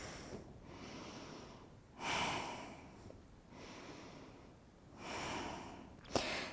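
Slow breathing held through a standing forward fold in a yoga flow, with two long, soft exhale swells a few seconds apart and a brief sharp sniff near the end, quiet and close with no talking.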